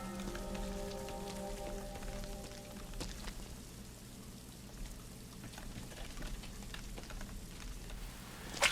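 Rain falls steadily with a dense patter of drops on surfaces, constant and moderately loud, with a low hum running beneath it.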